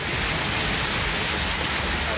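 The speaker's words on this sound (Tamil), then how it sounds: "சுற்றுவட்டார பகுதிகளில் பரவலாக மழை பெய்தது" Heavy rain falling steadily across the Chengalpattu area in Tamil Nadu, a dense continuous hiss with no pauses, close and fairly loud, with no voices over it.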